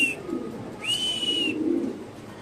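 Exhibition pigeons at a pigeon farm coo faintly in low murmuring phrases, with a thin high whistle-like tone heard twice above them and no talking.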